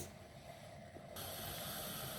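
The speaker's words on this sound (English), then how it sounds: "Can you hear it hissing now?" A pressure cooker valve hisses on a pot of spaghetti bolognese, a soft airy hiss that abruptly grows louder and brighter partway through, then holds as a constant close jet of steam.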